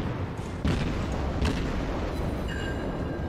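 Naval guns firing during a World of Warships battle with an Orlan class cruiser, giving a dense, continuous low rumble broken by two louder booms, one near the start and a sharper one midway.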